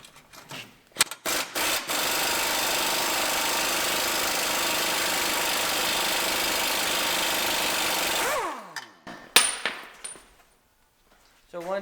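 Pneumatic impact wrench hammers loose a 15/16 nut on a Honda Civic rear trailing arm: a sustained loud rattling burst of several seconds, preceded and followed by sharp metal clanks and clicks.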